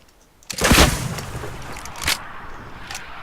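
Gunfire and RPG explosions in the video game Fortnite: a loud blast around half a second in, followed by a sharp later shot and a fainter crack, against a low game background with no talking.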